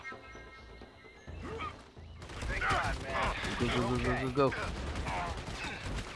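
Bursts of gunfire in the video game Army of Two, on a Lijiang River mission in China, crackle over a busy mix of game sounds while voices speak.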